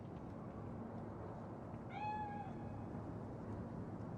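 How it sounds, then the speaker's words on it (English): A single clear meow from a cat in Cyberpunk 2077, about half a second long, rising out of a steady low ambient hum. "Chill, just a cat."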